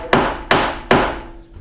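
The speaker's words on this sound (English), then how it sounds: "I'm actually using a mallet from a flooring nailer," Flooring nailer mallet tapping the end of glued-up butcherblock countertop boards, three sharp close wooden knocks at an even pace, each ringing briefly.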